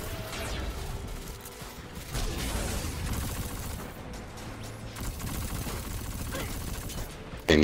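Sustained gunfire in Destiny 2 during a beta strike on the Inverted Spire, a dense fusillade of rapid shots at steady loudness across the scene, ending with a sharper burst, with a player's voice faintly underneath.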